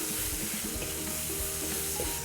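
Chopped onion, ginger and green chili fry on high heat for tinda masala, giving a dense, steady sizzle up close with faint stirring scrapes.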